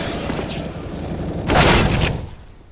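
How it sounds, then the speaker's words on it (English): A rifle shot fired through a wall in a CS:GO professional match gives one sharp, loud burst with a brief crackling tail, standing out against a steady low background of game noise. "Oh, nice wall bang."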